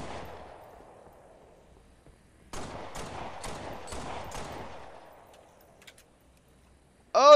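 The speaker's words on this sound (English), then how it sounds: "Now let's use the pistol." Rapid pistol shots ring out in Halo Online (Eldewrito), a burst of about six sharp cracks in quick succession with a lingering tail, followed by a brief electronic chirp at the end.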